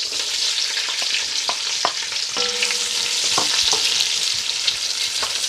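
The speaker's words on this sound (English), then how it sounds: "we're going to fry the onions until they're really nice and dark golden brown in colour" Onions for mutton pilau sizzle continuously in a hot pot with a bright, crackling hiss, along with occasional light scrapes and knocks from stirring, close and fairly loud.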